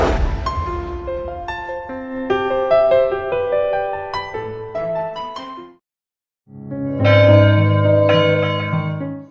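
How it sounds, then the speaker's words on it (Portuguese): Church bells peal in a reverberant town, overlapping rich metallic strikes ringing out loudly for several seconds, a short silent gap, then another burst of clanging bells. "A cidade acordou com o repicar dos sinos"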